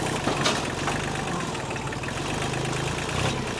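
A tractor engine idles steadily nearby, a continuous low rumbling drone with a faint knocking pulse that stays level throughout, and no voices over it.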